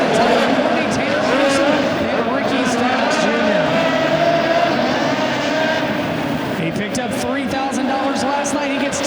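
Midget race cars roar continuously around a fifth-mile dirt track at an indoor dirt nationals main event, a loud dense engine drone with shifting pitch, while an announcer talks over it throughout.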